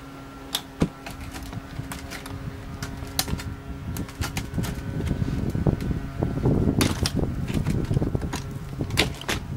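Cutting around the inside of a plastic container while building an Earthbox planter: soft scraping and snipping sounds with scattered sharp clicks, close and fairly quiet, growing busier toward the middle of the clip.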